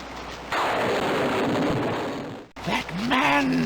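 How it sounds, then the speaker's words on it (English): Rain starts in the adventure game King's Quest 6, a loud, dense rushing wash that sets in suddenly and holds steady, then cuts out and gives way to game sound and voice. "It starts to rain."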